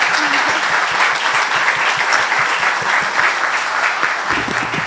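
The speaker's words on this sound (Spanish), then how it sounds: "por favor pedirles a todos un fuerte aplauso para nuestros panelistas" Audience applause rings out for the panelists at a conference session on ecodesign for plastics circularity, steady and dense clapping from a sizable crowd throughout.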